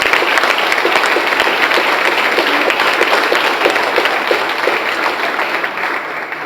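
A church congress audience in Paraná claps steadily and loudly for several seconds, a dense sustained applause that fades slightly toward the end.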